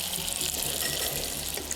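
Bacon and onions frying in a pan outdoors, the onions' moisture cooling the fat: a continuous, close sizzle and hiss with no voices over it.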